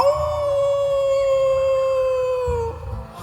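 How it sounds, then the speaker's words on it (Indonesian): Desert wolves howling in a stage play: one long, loud, steady howl that glides slowly downward and ends just before three seconds, with a low rumble beneath it and a brief second sound at the end. "Dari atas puncak gurun, serigala-serigala gurun ikut memanggil."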